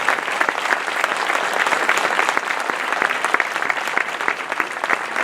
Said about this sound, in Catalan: un fort aplaudiment per a les 4 corals